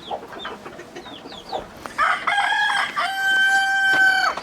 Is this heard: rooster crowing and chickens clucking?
yes